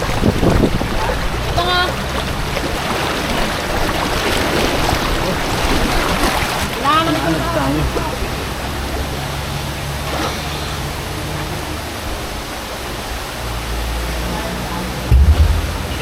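Fast floodwater from a typhoon in Occidental Mindoro rushes in a constant broadband roar, loud and close, with people talking intermittently over the torrent.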